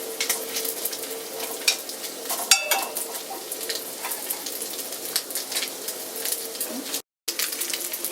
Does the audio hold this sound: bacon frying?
yes